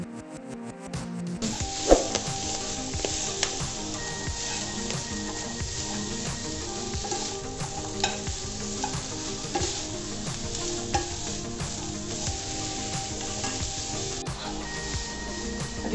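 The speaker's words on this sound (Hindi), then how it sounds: "अब इसको हमें तेज़ आंच पर बनाना है और कंटिन्यू चलाते रहना है, रुकना नहीं है।" Vegetables for Hakka noodles stir-fried over high heat, a loud steady sizzle that runs throughout with constant stirring and scraping clatter in the pan, close up and with no voices.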